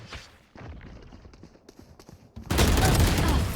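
Gunfire from the video game Valorant comes in scattered shots and thumps, then a loud sustained burst fills the final second, with the impact close and dense.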